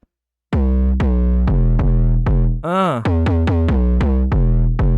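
A heavily distorted synth lead, processed with a Sausage Fattener plugin in a hard-hitting boy-group track, plays a loud rhythmic run of buzzy staccato notes, with a gliding pitch swoop midway before the punchy pattern resumes.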